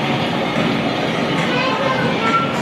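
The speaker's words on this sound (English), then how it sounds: "Let's not miss the train on the bridge." A G gauge model train runs across a bridge on a large indoor layout, giving a steady, close rumbling roll with a faint clickety rhythm under a busy room of voices.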